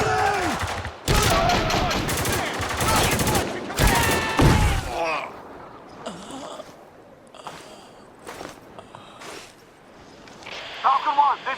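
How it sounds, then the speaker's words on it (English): Video game gunfire erupts in loud, dense volleys of rapid shots for several seconds, then gives way to quieter scattered sounds, with voices heard around the shooting. "We heard shots."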